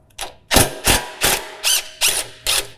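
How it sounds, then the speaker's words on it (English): A 13mm wrench works the nuts off a John Deere Z735M ZTrack mower's rear bumper, giving six or seven sharp ratcheting clicks in a quick, even rhythm, close and clear with no talk. "So now we need to break out that 13mm wrench, and we'll have to reach on the back side of these to get onto the nut"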